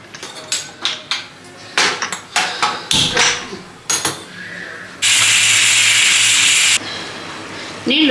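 Pressure cooker with leafy greens and dal lets out a sharp, steady hissing whistle of escaping steam lasting nearly two seconds, after a series of clanks and clatters from pots and utensils nearby.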